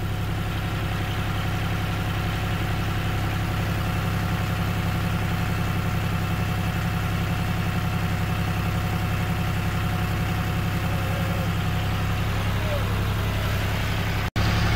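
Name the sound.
tractor engine running while lifting boat engine out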